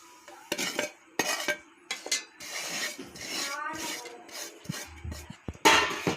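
A metal spoon scrapes and clinks against a pan as roasted semolina is stirred into mango, irregular close strokes with short pauses and a louder clatter near the end.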